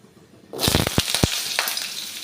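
Potato pieces dropped into hot oil in a pan with dry red chili and five-spice seeds (panch phoron) burst into a loud, close sizzle after a quiet start, with sharp crackling pops early on, then a steady frying hiss.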